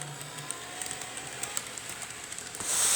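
Faint train rolling along the track past a railroad crossing, a soft steady rumble with light clicks, swelling into a louder hiss at the very end.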